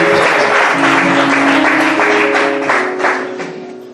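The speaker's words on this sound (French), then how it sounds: "on va applaudir." A crowd claps steadily and loudly throughout, the applause holding strong before gradually thinning out toward the end.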